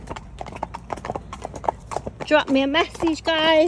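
Horses' hooves clip-clop in a steady brisk rhythm on a lane during a road hack, heard under a voice, with a loud vocal-like call near the end.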